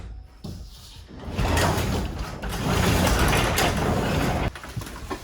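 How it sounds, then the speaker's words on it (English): A garage door is opened by hand during a power outage, giving a loud, sustained rattling and rolling mechanical rumble that builds after a short pause and carries on for several seconds, close by with no talk. "power's out, so we gotta manually open the door"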